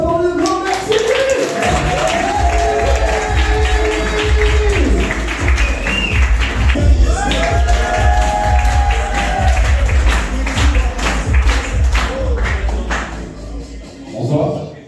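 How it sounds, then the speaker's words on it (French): Comedy club audience breaks into sustained applause and cheering, a dense, loud crowd roar of clapping that swells and holds for the full stretch before tapering near the end. "un tonnerre d'applaudissements pour le grand merci"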